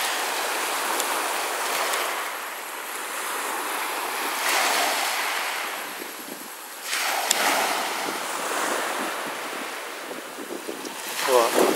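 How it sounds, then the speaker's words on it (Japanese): Waves wash in and draw back along a coral shore on Fitzroy Island near Cairns, Great Barrier Reef, in repeated surges, with a light rattling, clinking texture of coral fragments tumbling in the surf, plus some wind. "波打ち際はもうサンゴが打ち上げられるからシャラシャラシャラシャラ音がするんだよね。"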